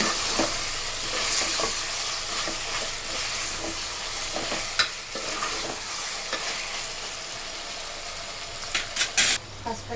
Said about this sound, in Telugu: అల్లం వెల్లుల్లి పేస్ట్ అయితే పచ్చి వాసన పోయేంత వరకు అయితే వేయించుకోవాలి.